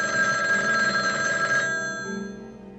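A telephone bell rings loudly and steadily, then stops partway through and fades into quiet.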